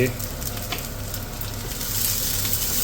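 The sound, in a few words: onion sautéing in a pan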